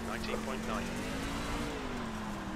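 A race car engine in iRacing holds a steady droning note on the Eldora dirt oval, mostly even in pitch, sitting fairly quietly beneath someone talking.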